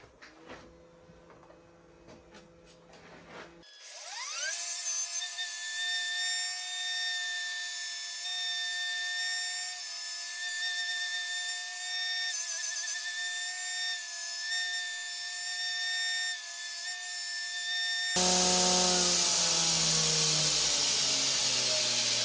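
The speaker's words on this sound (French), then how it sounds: "détourage des plaquettes, j'ai remis une bande en grain 40 qui est usée" A belt grinder fitted with a worn 40 grit belt shapes the scales of a forged Damascus knife handle, a steady loud whining grind starting after a few seconds and running continuously, then turning harsher near the end.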